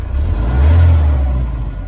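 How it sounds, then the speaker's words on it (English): A low diesel engine of a 2019 Mahindra Roxor utility vehicle rumbles steadily at close range around 850 RPM, swelling slightly midway before settling back to a smooth, even idle. "not quick revving, just a nice diesel motor"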